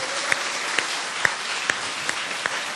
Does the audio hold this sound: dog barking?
no